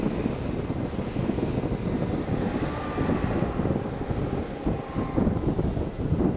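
A Jet2 airliner from London Stansted lands at Faro Airport, giving a steady, broad roar of jet engine noise mixed with buffeting wind on the microphone, continuous and fairly loud throughout.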